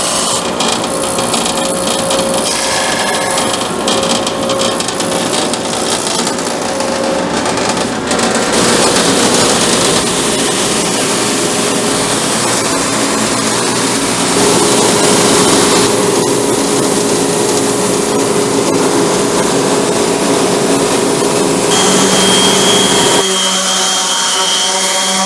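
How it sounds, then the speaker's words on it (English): Drum sander running wood panels for a restored pie safe in a workshop, a loud continuous motor drone with grinding abrasive rasp that changes in tone as each panel feeds through, ending abruptly near the close. "I'll go ahead and run them through the drum sander."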